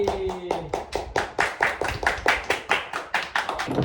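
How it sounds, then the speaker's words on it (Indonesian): Students in an Indonesian classroom clap together in a rhythmic, evenly spaced pattern, about sixteen sharp unison claps in quick succession, close and loud, with a brief voice at the very start. "Oke, berikan tepuk tangan."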